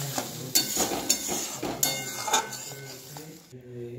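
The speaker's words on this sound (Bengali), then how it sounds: "এবার এর মধ্যে আমি একটু গরম জল দিয়ে দিচ্ছি, দিয়ে ভালো করে মিশিয়ে একটু ফুটিয়ে নেব।" Flour, garlic and butter mixed with hot water in a pan: a spoon scrapes and clinks against the metal over a light sizzle, with a few sharper knocks, then the stirring stops. Nobody speaks.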